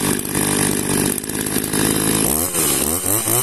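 An Echo 281 chainsaw engine runs loud and close, holding a steady buzzing roar before revving up and down in quick bursts near the end.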